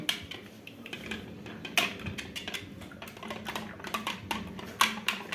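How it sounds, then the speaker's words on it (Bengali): Egg being stirred in a plate for chicken sandwich filling, producing a steady run of light clinking and scraping taps, close and moderately quiet, with no talking. "এবার এটা ভালো করে একটু মিশিয়ে নেব।"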